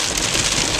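Heavy rain pours down in a dense, even wash of drumming with no breaks, loud and close.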